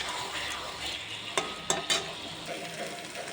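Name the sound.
sautéing potatoes with ginger, chilli and tomato paste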